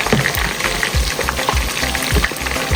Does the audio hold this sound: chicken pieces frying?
yes